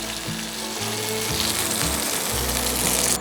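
Sweet potato and seaweed vegan eel fries in hot oil with a loud, dense, continuous sizzle and crackle. A low hum runs underneath.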